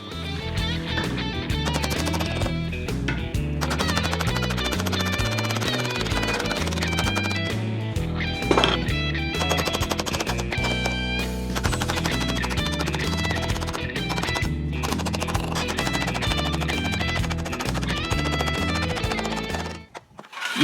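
A sheet metal flange is shaped for a motorcycle seat pan, with rapid, loud metallic hammer strikes coming in dense bursts close by, nearly nonstop for about twenty seconds before a short pause near the end.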